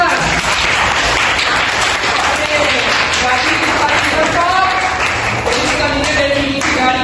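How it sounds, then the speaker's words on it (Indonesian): Applause from a classroom of students, steady and fairly loud, with clapping continuing throughout and voices mixed in. "Beri aplaus untuk Nazwa."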